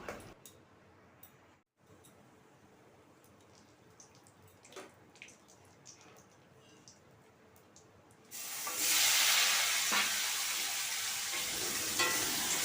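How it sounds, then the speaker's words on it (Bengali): Panch phoron, dried chilli and bay leaf are added to hot oil. A quiet stretch with faint ticks gives way to a sudden loud, steady frying hiss that runs to the end, with no voices. "তেলটাকে আমি গরম করে আমি ফোড়ন হিসাবে পাঁচ ফোড়ন শুকনো লঙ্কা আর তেজপাতা দিয়ে দেবো"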